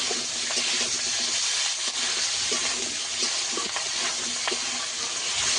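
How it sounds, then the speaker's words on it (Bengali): Potatoes frying in oil after salt is added, with ginger going into the pan, for a fish curry with ridge gourd and potato. A steady, close crackling sizzle runs throughout with small stirring clicks and no talk. "স্বাদ মতো লবণ দিয়ে দেবো। দিয়ে আলুটাকে কিছুক্ষণ ভেজে নেব।"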